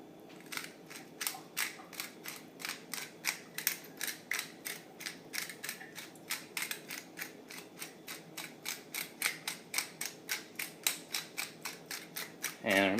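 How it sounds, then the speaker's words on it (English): A pepper grinder cracks black pepper over eggs on a cast iron griddle, a close, quiet run of rapid evenly spaced ratcheting clicks lasting many seconds, ending in a brief louder rustle. "Season them with a little ground pepper here."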